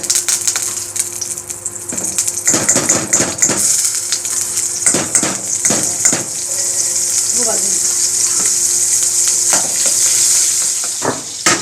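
Butter and oil sizzle steadily in a pan for pav bhaji fondue, with a spoon clinking and scraping against the metal in bursts before the frying hiss carries on alone.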